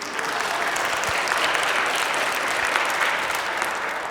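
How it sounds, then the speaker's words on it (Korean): A church audience at a Lenten lecture in a Korean Catholic parish breaks into sustained applause, a dense, even patter of many hands clapping close and unbroken throughout. "그래서 박수 치세요."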